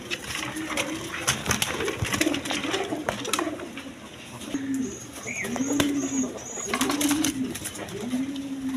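A short pair of pigeons kept for sale gives repeated soft, low coos in a steady rhythm, close by, while someone talks over them.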